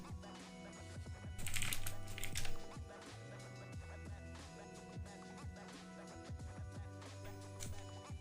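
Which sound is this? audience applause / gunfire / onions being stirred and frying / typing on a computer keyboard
typing on a computer keyboard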